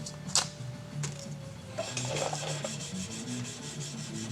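A knife spine and ricasso are hand sanded in a vise, producing a close, rhythmic rasping rub with quick repeated strokes that grows steadier after a few light scrapes.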